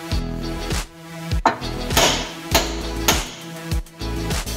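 Metal-on-metal hammer blows strike the lower ball joint of an Alfa Romeo 159 wishbone to free it, about six firm, evenly spaced hits with ringing overtones, close by and without talk.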